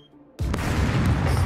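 A grenade goes off in a video game with a sudden loud boom, followed by a sustained heavy roar.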